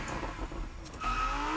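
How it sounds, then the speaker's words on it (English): Lamborghini Huracán engine in The Crew Motorfest, a steady loud car drone that swells into a higher, stronger rev about two-thirds of the way through, with no talk over it. "I love the sound of the Hurricane in this game."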